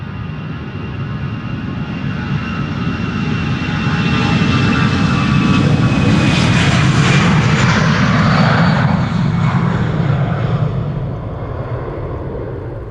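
An Aer Lingus Airbus A320 jet, 19 years old and in Irish rugby team livery, departing Schiphol for Dublin; a loud engine roar swells to a peak midway and then slowly fades, with a pitch sweep as it passes.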